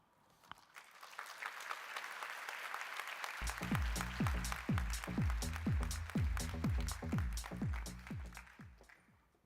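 An audience at a university conference opening ceremony bursts into applause to welcome a speaker, the clapping starting thin and scattered, then swelling into full, sustained hand-claps from a large crowd.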